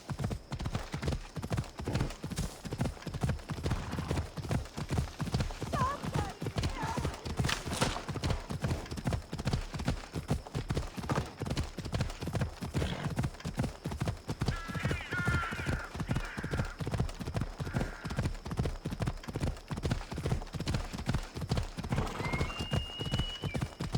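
A horse gallops in Assassin's Creed Odyssey, its hooves beating a fast, steady clip-clop rhythm that continues loud and close for the whole stretch, with an occasional faint whinny and brief game voices.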